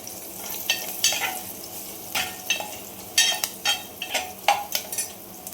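Turmeric dropped into hot tempering oil for a dal dish, crackling sizzle with bursts of spattering and clinks of a spoon stirring in the pan, no voices.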